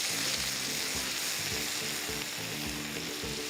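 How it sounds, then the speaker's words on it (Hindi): Onion fries in a pan on the way to a tawa kaleji, giving a dense, continuous close sizzle with a faint rhythmic low rumble beneath; no one talks. "I am just going to add in a little bit of water just to stop the onion from frying too much"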